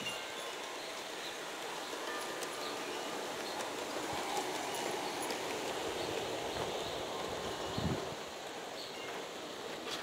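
An Aristo Union Pacific streamliner model train runs along a layout with a continuous, even rolling rumble and faint track noise. The sound holds steady throughout with one brief low thump near the end.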